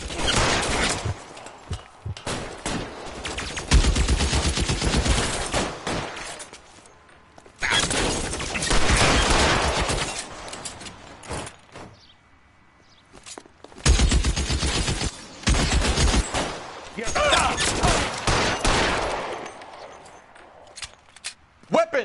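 Rapid gunfire in the L.A. Noire video game, with three long bursts of loud shots and crackling volleys separated by short pauses, plus scattered single shots.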